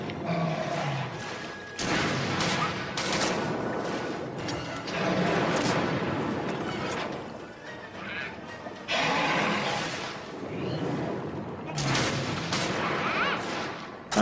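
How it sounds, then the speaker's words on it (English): Heavy bowgun firing cluster shots in Monster Hunter 3 Ultimate, a series of sharp booming blasts with bursting follow-up pops, mixed with monster roars and game effects, moderately loud. "So I'm going to use the cluster shots first."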